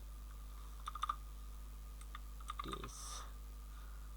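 Quiet, close computer keyboard typing into a web form field: a few scattered clicks, a short burst of taps, then a soft rustle, over faint steady hum.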